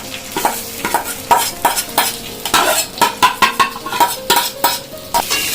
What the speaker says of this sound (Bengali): এবার আমি চালটা দিয়ে দেবো।